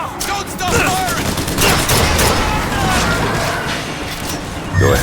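Heavy automatic gunfire in the shooter game Bioshock Infinite, loud rapid bursts rattling continuously with booming impacts, sustained for several seconds.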